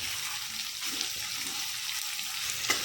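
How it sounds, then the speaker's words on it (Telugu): Onions frying over medium-high heat in a pan for a spicy chicken curry, heard as a steady, close sizzle with occasional faint stirring clicks. "హైలో పెట్టకుండా సెమీ హైలో పెట్టి ఆనియన్స్ని ఫ్రై చేసుకోవాలి"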